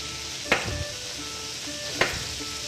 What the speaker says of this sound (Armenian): երկրորդ կողմն էլ արդեն տապակվեց